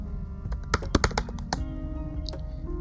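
Typing on a computer keyboard, close by, with a quick burst of crisp clicks and taps followed by a few scattered keystrokes over a soft background hum.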